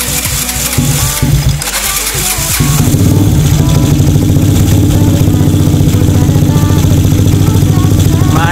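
A motorcycle engine firing on a single CDI of a DC-powered dual-CDI setup, sputtering and catching at first, then settling into a loud, steady, close idle that runs on without pause.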